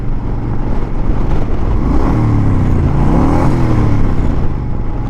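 A Honda Fury motorcycle's engine and exhaust rev with a low, throaty rumble that swells and falls twice, heard close and loud against a constant idle.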